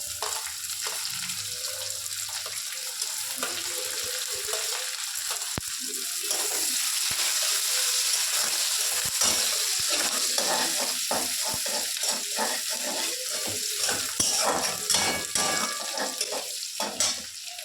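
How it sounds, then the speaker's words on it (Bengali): Chopped onion fries in hot oil with lightly browned garlic, a steady close sizzle and hiss running throughout, broken by scraping and stirring clatter of a utensil in the pan. "এবার আমি তেলের উপরে পেঁয়াজ কুচিটা দিয়ে দেবো।"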